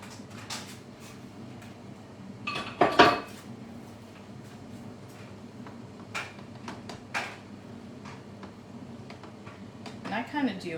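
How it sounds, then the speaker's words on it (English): Browned meat added back into a sloppy joe sauce in a pan on the stove, with clattering utensil and pan knocks, a loud scrape and soft stirring sounds over a quiet kitchen background while someone talks. "I'm going to go ahead and add the meat back in."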